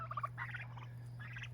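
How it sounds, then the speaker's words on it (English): Farmyard turkeys gobble in a few quick rattling bursts, moderately near but fairly quiet, over a steady low electrical hum. "Here are the turkeys and the new chickens."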